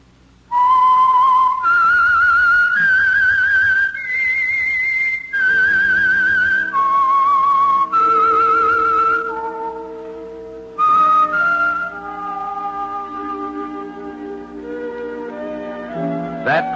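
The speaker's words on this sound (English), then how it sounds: "That whistle is your signal for the Signal Oil program, The Whistler" A whistled signal tune for the Signal Oil radio program The Whistler: a lone, clear melody of sustained whistled notes stepping up and down, then fading into soft orchestral music.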